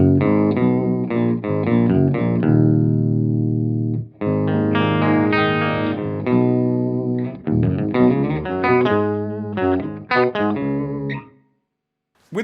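An electric guitar runs through an octave pedal with the sub octave engaged, strummed chords and picked notes ringing thick and distorted with ambient wash, loud and close, pausing briefly midway and falling silent near the end.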